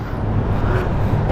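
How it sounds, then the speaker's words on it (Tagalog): Superbike motorcycles at a street bike night in BGC give off a continuous low engine rumble, close and steady, with no distinct rev peaks standing out. "Pandiinan yung mga motor nyo"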